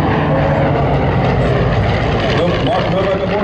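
Aircraft engine noise from an A-26 propeller attack plane flying at the Keesler airshow, a loud steady broadband roar that persists throughout, with voices talking faintly beneath it.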